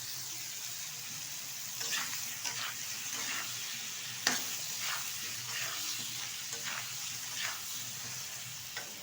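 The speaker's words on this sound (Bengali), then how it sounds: "ভালোভাবে একটু নেড়ে চেড়ে নেবো একটু সময় নিয়ে, যাতে সবজির কাঁচা গন্ধটা বেরিয়ে যায়" Flat beans, eggplant and potato fry in a pan with dried lote fish, giving a steady, close sizzle with occasional scraping stirs from a utensil.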